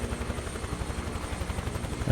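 A Huey helicopter flies low in the MS Flight Sim 2024 game, its rotor thumping in a fast, even beat over a steady engine whine, loud and continuous.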